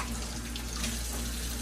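Tap water runs steadily from a kitchen faucet over a stuffed pork roast in a sink, a constant close splashing hiss with no talking.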